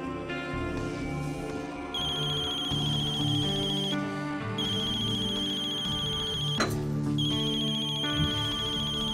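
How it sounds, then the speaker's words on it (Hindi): A telephone ringtone rings loudly and steadily for several seconds, its repeating electronic melody playing alone in a drama scene. "अगर सिकंदर अली का फोन है तो उसे मत बताना कि मैं तुम्हारे पास हूं"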